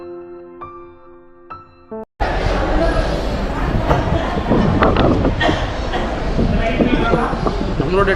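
At a station platform, a soft tonal chime gives way abruptly to loud, broad rumbling and clattering of the Yercaud Express train, steady and close, with a voice speaking over it.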